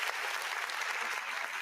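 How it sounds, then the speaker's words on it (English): Steady applause for the Philadelphia Phillies after a three-game sweep, dense clapping that fills the whole short stretch at an even level with no voices on top. "Give them some claps, Give it up for the Phillies, man."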